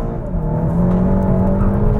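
A Seat Leon Cupra engine is driven hard through corners on a track, giving a continuous loud, strained drone that holds high revs with slight pitch shifts and no talk over it.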